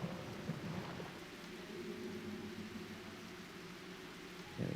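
Video game rain and thunder: a constant hiss of rainfall over a low rolling rumble of distant thunder, steady and fairly quiet throughout, swelling slightly at the very end, with no talking.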